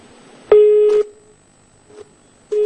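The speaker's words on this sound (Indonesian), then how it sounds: "maaf sekali sambungan telepon dengan kontributor Metro TV M. Rizky terputus" Telephone line tone after a call to a field correspondent drops: a steady electronic tone sounds for about half a second, followed by short repeated tone bursts, clean and close with no talk.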